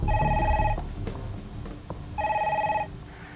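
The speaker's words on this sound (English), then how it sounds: "And then the phone rang." A telephone rings in two clear electronic bursts separated by a pause of more than a second, over low background noise.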